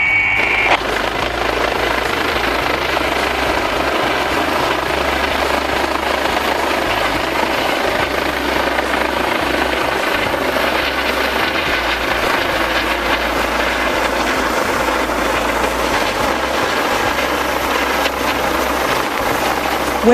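The LifeNet of NY air medical helicopter comes in to land, its rotor and engine a loud, constant close-up drone with rhythmic blade thumping for the whole stretch.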